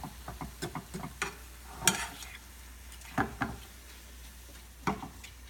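Onion mixture sautéed in a pan, faint sizzling under sharp intermittent clicks and knocks of a utensil against the pan, fairly quiet and close.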